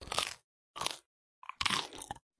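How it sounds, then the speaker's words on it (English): A llama chews and crunches on twigs and bark, close-up bursts of crisp crunching in three or four quick bites separated by short pauses, with no talk. "He munches and crunches and gobbles and grinds at his food."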